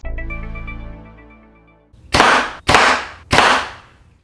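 Three sharp, loud impacts about half a second apart as a 125-grain Xecutioner Hybrid broadhead arrow is shot into an MDF target, following a fading tonal hum.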